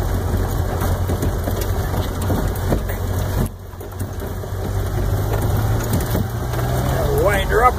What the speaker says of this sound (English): I'll wind her up a little.